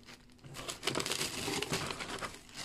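A wrapped package with crinkly packing being torn open and unwrapped by hand, a soft close rustling and crumpling that swells into a busy stretch of crinkling before easing off, with no voices.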